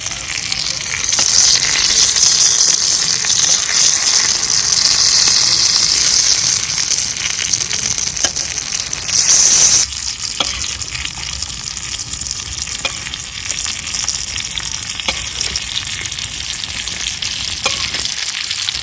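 Fish fries on a tawa, a flat griddle stone, in an outdoor village kitchen. A loud, steady sizzle crackles throughout, shifting briefly midway as the fish is turned.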